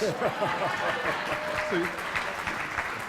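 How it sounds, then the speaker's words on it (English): Audience applause fills a conference hall at a legislative advocacy event, a steady dense wash of clapping with a few scattered voices and a brief chuckle mixed in. "the leader over here gets rounds of applause very easily"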